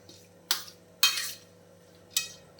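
Lemon pickle is stirred in a bowl, with three distinct clinks and scrapes of a spoon against the dish separated by quiet pauses, close and moderately loud.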